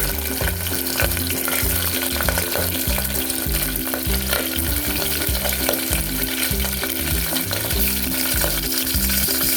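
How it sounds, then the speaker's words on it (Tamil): Chicken pieces sizzle and fry in a pan of spiced masala for a Chettinad biryani, with steady crackling and regular scraping stirs from a spoon, loud and close with no talking. "இப்போ நம்ம எடுத்து வச்சிருக்க சிக்கன் போட்டுக்கலாம்"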